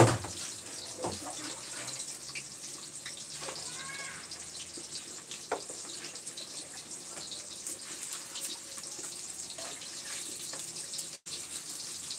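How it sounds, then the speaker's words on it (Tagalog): Running tap water pours steadily while broccoli is washed and soaked in a sink for an oyster-sauce stir-fry, a continuous close gush with small splashes and no talk over it. "naghuhugas ng, nagbababad ng broccoli"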